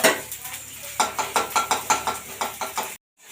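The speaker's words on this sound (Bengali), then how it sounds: "সবগুলো একসঙ্গে ভেজে নিলাম" Tempering spices with chopped onion and garlic are fried and stirred in a pan, a rapid series of about a dozen metallic scrapes and knocks in an even rhythm, close and fairly loud, ending abruptly.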